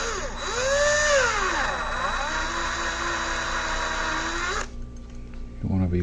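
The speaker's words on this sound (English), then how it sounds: "This is a 9/64 drill bit." A 9/64 drill bit runs steadily for several seconds during restoration work on a 1973 Olds 442 police cruiser, its whine rising and dipping before cutting off abruptly, with a short burst of activity afterward.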